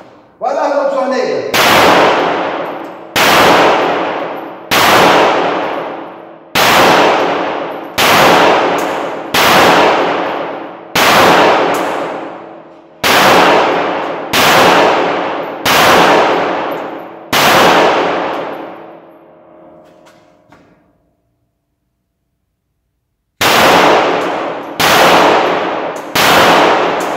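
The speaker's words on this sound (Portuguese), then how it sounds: "Eu quero que você atire a 7 metros." Series of loud, sharp shots from a TH 380 pistol fired at a 7-metre target on a range, about twelve evenly spaced reports, a pause of a few seconds, then three more shots.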